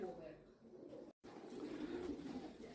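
Pigeons coo low and steadily around the domes of a Ukrainian Orthodox church, with soft murmuring under a muffled background and one brief dropout partway through.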